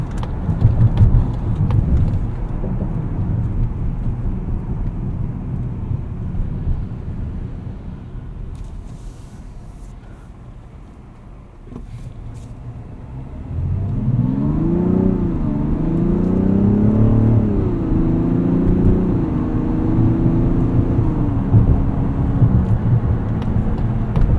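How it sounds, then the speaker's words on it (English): The 3.3-litre turbocharged inline-six of a 2024 Mazda CX-90 drones steadily from inside the cabin during driving, then rises in pitch through a couple of gear changes, all over continuous road and tyre noise with no talking. "Kind of a different inline-six sound than I was expecting. A little bit lower, a little bit gruffer."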